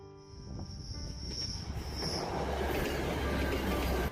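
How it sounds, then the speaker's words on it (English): Train on the North Highland Railway line between Thurso, Wick and Inverness, arriving at Forsinard Station in Caithness, a steady rumbling roll that builds and holds loud throughout, with no talk. "The train arrives at Forcenard Station"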